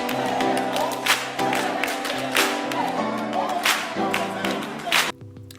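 An audience claps along in bursts over sustained music, the clapping rising in loud waves before a sudden drop near the end.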